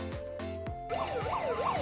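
An electronic warning siren on a goods vehicle converted into a police patrol vehicle warbles up and down after a few sharp electronic tones, loud and close, with no voices.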